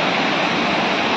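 A forest waterfall at Hebbe Falls in Bhadra Tiger Reserve roars as a dense, steady, loud rush of falling water, close by and unbroken, with no voices.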